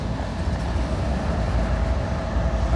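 A freight train with distributed power locomotives at the rear, three of them pushing, rolls past close by as a steady, loud rumble of wheels and engines with no voices.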